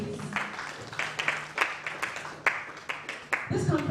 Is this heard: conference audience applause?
yes